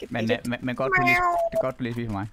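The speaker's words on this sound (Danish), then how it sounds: "Hvad var det, du sagde miau? Det var min kat." A pet cat meows during an online Fortnite session, a drawn-out rising and falling cry set among Danish speech from a person talking close to the microphone.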